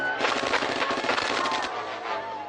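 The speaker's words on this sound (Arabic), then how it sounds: "هما بيضربوا الرصاص ليه؟" Dense automatic gunfire crackles from a shootout in an Egyptian Upper Egypt (Saidi) comedy film, rapid bursts filling the whole stretch loudly with no pauses and no talk.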